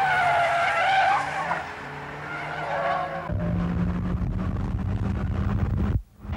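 A Honda City CZ-i and a Suzuki Cultus (Swift GT-i) race on a track, with engines revving high, then a tire squeal and steady car noise carrying over wind buffeting, close to the microphone.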